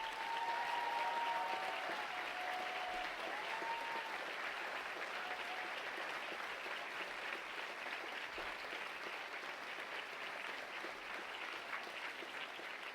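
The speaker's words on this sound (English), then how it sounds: "So please do give them a round of applause." Sustained applause from a seated audience at a SOAS graduation ceremony: a steady, full wash of clapping that holds at an even level for the whole stretch, with no voices over it.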